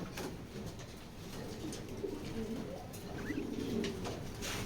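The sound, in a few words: racing pigeon cooing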